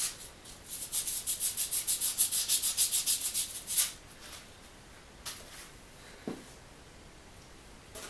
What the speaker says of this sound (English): I'm just going to go back with a finer grit to help take out some other deeper stuff or ridges.